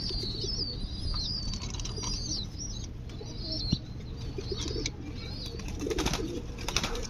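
Pigeons coo steadily in low murmuring calls, with occasional wing flaps and scuffles; higher chirps from other birds ring out over the flock.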